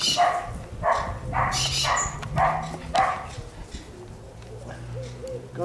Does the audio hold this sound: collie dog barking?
yes